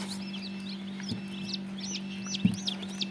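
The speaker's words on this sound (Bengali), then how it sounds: "এই যে টার্কি মুরগি।" Turkey hens and young turkey chicks at a poultry shop in Bakshiganj, Jamalpur, giving repeated high rising peeps and soft clucks over a constant low mechanical hum, with a couple of sharp knocks nearby.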